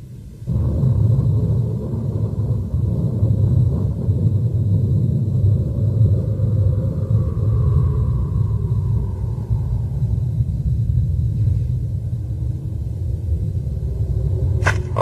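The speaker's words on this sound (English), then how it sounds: "Storm. It's coming." Low, continuous rumble of an approaching storm, steady and heavy throughout, with a faint higher whine fading in the middle and a brief sharp sound right at the end.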